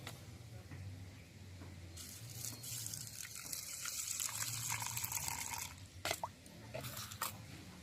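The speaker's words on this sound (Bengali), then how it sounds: "তাহলে এবার জল দিচ্ছি" Water is poured from a container onto freshly planted coriander seeds in a home pot, a soft splashing gush with scattered drips, fairly close and faint.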